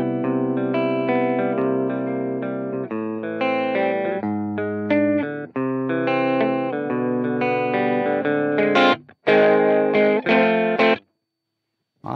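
Electric guitar played through a BOSS BP-1w booster/preamp pedal set to C mode, a run of bright sustained chords and single notes with clear attack and slight grit, ending in a few sharp stabs before a brief silence.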